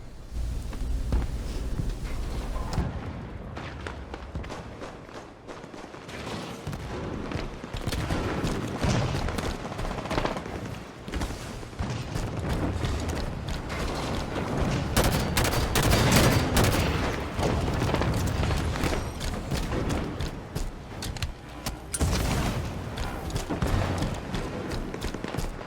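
Gunfire and tank shots in Halo 5 multiplayer combat, a dense, continuous barrage of loud bursts and booming impacts with no talk over it.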